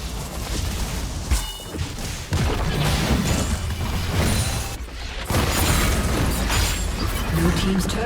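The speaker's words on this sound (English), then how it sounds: "Blue team's turret has been destroyed." A turret is destroyed in League of Legends while playing Briar, with heavy booms and crashes buried in dense, continuous game noise and effects.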